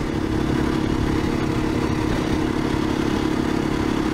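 A 2021 KTM 500EXCF dualsport motorcycle running loud and close on a trail ride, its engine a steady rough drone with rattling clatter and a small rise in revs partway through.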